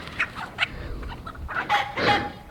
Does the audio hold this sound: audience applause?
no